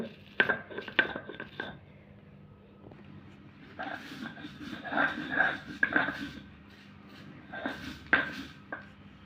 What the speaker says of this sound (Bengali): আগে নিব শুটকি মাছ গুঁড়ো করে নেব